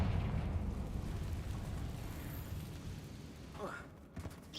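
Confringo fire spell explosion in Hogwarts Legacy, a sustained rumbling blast that gradually fades, followed by a faint burst near the end.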